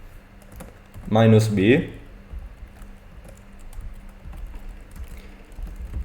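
Scattered keystrokes on a computer keyboard while a command is typed in a Linux terminal, soft and close, with a brief spoken word partway through.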